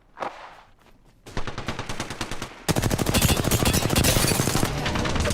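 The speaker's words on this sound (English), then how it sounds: "They're shooting at me." Rapid automatic gunfire in the video game Apex Legends, beginning with a short distant shot, then a sustained burst followed by louder, denser continuous fire up close, with no voices.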